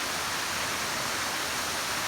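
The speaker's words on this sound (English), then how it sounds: "And I'm dipping in the waterfall." A waterfall pours in a steady, close roar of rushing water, a dense unbroken hiss with no voices over it.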